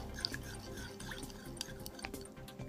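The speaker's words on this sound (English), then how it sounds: "We're going to mix it well." Gelatin mix is stirred in hot water in a bowl, giving faint, soft liquid swishes and a few light drips or clinks, quiet and close, with no voices.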